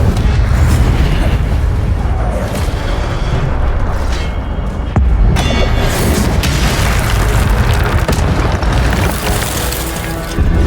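Fire spells cast in Hogwarts Legacy go off as loud booming blasts, with several heavy impacts and crackling bursts over a dense game soundtrack.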